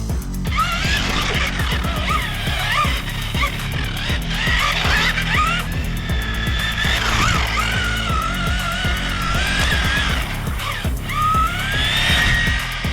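A Kyosho Datsun 240Z radio-controlled car with a brushed motor whines continuously nearby, its pitch rising and falling as it speeds up and slows, with a few sharp squeals.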